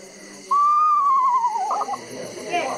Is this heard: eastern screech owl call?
yes